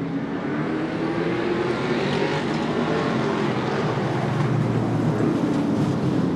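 Thunderstocks race cars on a short track pull away for an 8-lap qualifier, their engines blending into a continuous broad roar that holds steady at moderate distance.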